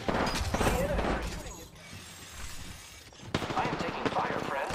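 Gunfire in a ranked online shooter, dense bursts of automatic fire with sharp cracks at the start and end and a quieter stretch in the middle, loud and close with faint radio-style chatter underneath.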